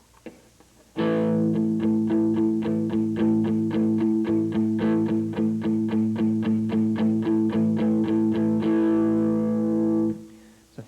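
Muted electric guitar power chords played on the back pickup with a little distortion, chugged in a steady fast rhythm for several seconds, then ringing out and stopping.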